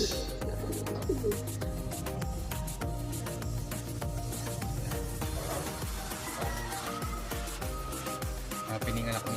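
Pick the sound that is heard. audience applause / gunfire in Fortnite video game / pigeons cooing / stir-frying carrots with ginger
pigeons cooing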